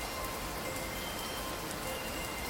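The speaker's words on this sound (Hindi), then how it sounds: "बारिश बहुत तेज है" Heavy rain falls on a dark night in a steady, dense hiss, a constant wash of noise with no voices.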